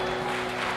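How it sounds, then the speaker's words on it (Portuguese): Congregation at a Portuguese-language church service applauding, a steady dense wash of clapping filling the short moment without pause. "Aplauda ao Senhor."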